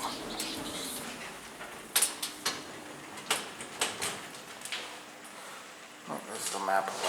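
A Schindler 330A hydraulic elevator at a hotel gives off scattered squeaks, creaks and soft bangs, faint and irregular against a low hum.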